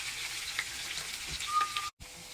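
Whole spices, fenugreek, cumin and dried chili, fry with onion and garlic in hot oil for a tempering for masoor lentils. Steady close sizzle with faint stirring scrapes and a brief cutout near the end.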